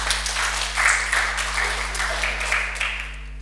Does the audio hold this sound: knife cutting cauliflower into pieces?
no